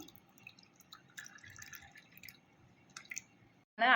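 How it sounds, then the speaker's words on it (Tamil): Chilled milk is poured into a jigarthanda glass, giving soft dripping and trickling sounds that are faint and close, ending in a brief louder splash. "இந்த கூலிங்கான பாலை வந்து இதில் சேர்த்துக்கலாம்"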